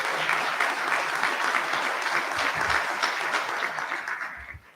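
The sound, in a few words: audience applause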